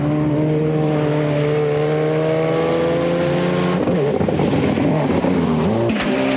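A high-revving rally car engine roars close by at full throttle on a rally stage, a steady harmonic whine that shifts pitch as it changes gear, then snarls and fades slightly.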